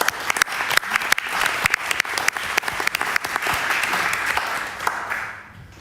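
Audience applause at a European literature evening: many hands clapping densely with sharp individual claps standing out early, building into a steady roar before fading away at the end.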